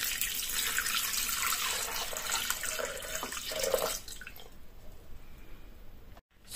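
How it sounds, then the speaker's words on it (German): Water from a tap pours into a Thermomix mixing bowl in a kitchen, a steady splashing rush for about four seconds that then thins to a quieter trickle and stops, with no voices. "Jetzt geben wir erstmal 500 Gramm Wasser in den Mixtopf."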